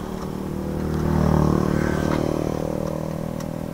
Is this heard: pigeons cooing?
no